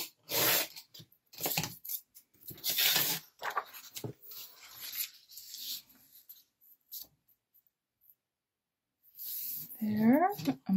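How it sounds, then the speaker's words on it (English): Scissors snipping through paper for a junk journal file folder, several short rasping cuts in bursts separated by quiet gaps, with a voice speaking in between. "So I'm going to cut it right here."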